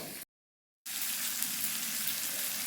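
Potatoes sauté in a pan for aloo dum with a continuous close, bright sizzle, briefly cut to silence near the start before the frying hiss returns evenly.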